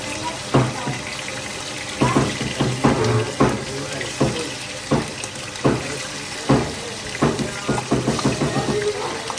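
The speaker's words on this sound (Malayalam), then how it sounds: "ഞാൻ ചിക്കൻ ഫ്രൈ അല്ല ഇങ്ങനെ മഞ്ഞപ്പൊടി ഒപ്പ് ഇട്ടിട്ട് അതൊന്ന് ഫ്രൈ പോലെ ആക്കിട്ട് വെക്കുന്നത്" Chicken pieces tossed with turmeric powder fry in a pan with a steady, close sizzle, broken by irregular clattering knocks of stirring. No one speaks.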